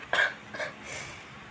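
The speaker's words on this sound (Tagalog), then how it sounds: "Na, inuubo." Two short, close coughs in quick succession, followed by a softer breathy exhale, with no talking.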